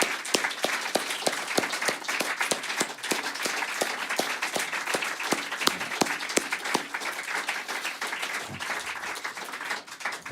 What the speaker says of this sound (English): please, one more round of applause for all of this crew